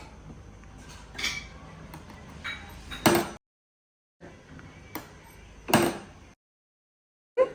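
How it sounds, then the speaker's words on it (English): A metal spoon snaps onto a magnet, giving two sharp, close clinks a few seconds apart amid quieter handling rustle, with no voices. "So spoon sticks to the magnet"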